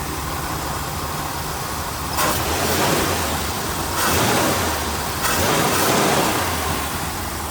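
A 1966 Pontiac GTO hardtop with a tri-power V8 idling steadily, a close, even engine rumble with a few brief swells in loudness and no talking.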